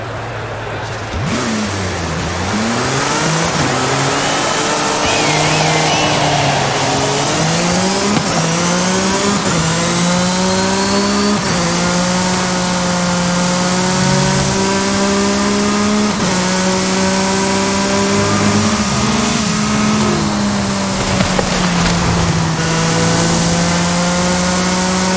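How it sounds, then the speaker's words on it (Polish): Aston Martin Valhalla combustion engine in Forza Horizon 5 revving loudly and continuously, pitch climbing and dropping through repeated gear changes with occasional tire squeal, alone without talk. "Skoro ma jakiś tam silnik spalinowy, to będzie jakoś brzmiał chyba"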